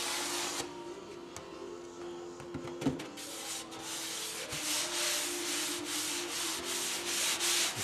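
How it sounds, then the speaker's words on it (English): Sandpaper rubs back and forth across the wooden wing of a model aircraft, a close, steady scratchy hiss in repeated strokes that grows more rhythmic toward the end. "Okay, let me get a piece of sandpaper."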